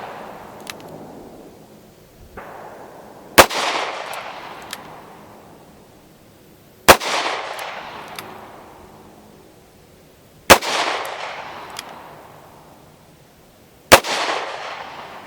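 A Ruger LCR 9mm revolver fires four evenly spaced, sharp shots about three seconds apart, each trailing off in a rolling outdoor echo, with faint lighter pops in between.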